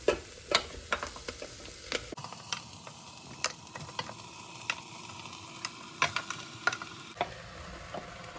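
Vegetables go into a pan of cooked onions for a vegan biryani, bringing a steady low sizzle with scattered clicks and taps of pieces landing and utensils against the pan, fairly quiet and with no talking.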